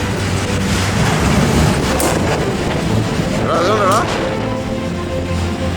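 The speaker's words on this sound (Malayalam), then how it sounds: "ട്രെയിൻ അതിവേഗം മുന്നോട്ട് നീങ്ങിക്കൊണ്ടിരുന്നു" A train crosses the Wadi Rum desert in Jordan with a loud, continuous rumble and rattling carriage noise under wind buffeting, while faint voices and brief higher-pitched sounds surface over it.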